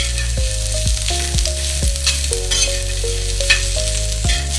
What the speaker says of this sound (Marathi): तर इथे कांदा आपल्याला लालसर भाजून घ्यायचं।